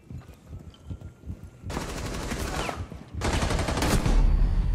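Rainbow Six Siege gameplay brings two loud bursts of rapid gunfire, the first after quiet background noise and the second following straight after, each a dense crackling volley of shots.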